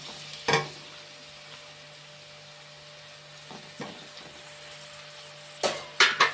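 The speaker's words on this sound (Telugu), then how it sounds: "రండి, ఇదో చేపలు వేస్తున్నానండి ఇందులో." Small kattaborugulu fish frying in oil, a faint steady sizzle with a few sharp spatters and clatters near the start and end, close and quiet with no talk.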